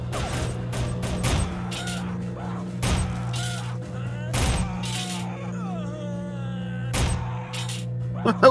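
Gunfire in the video game Soldier of Fortune: loud shots come in irregular bursts and single cracks with short gaps between them. A game tone drones underneath, and a player's voice talks over part of it.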